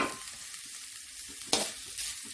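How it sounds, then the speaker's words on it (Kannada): Black pepper and coconut dry-roasting in a pan for a shark fish sambar, a soft hiss with gentle stirring and two brighter scraping bursts toward the end; no speech. "ಕಾಳುಮೆಣಸು ಮತ್ತು ಕಾಯನ್ನು ಹಾಕಿ ಸ್ವಲ್ಪ ಹುರಿದ್ಕೊಳ್ತೀನಿ"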